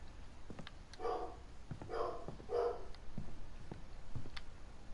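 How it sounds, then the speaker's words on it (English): A dog barks in the background during a game playthrough, a few bursts of faint barks spaced a second or so apart over low room noise. "I'm sorry if you guys can hear my dog barking in the background."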